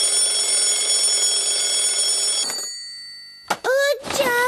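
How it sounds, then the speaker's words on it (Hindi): A cartoon alarm clock rings with a loud, steady electronic tone for about two and a half seconds, then cuts off; a voice speaks briefly right after. "जल्दी से उठ जाओ, अलार्म भी बज रहा है।"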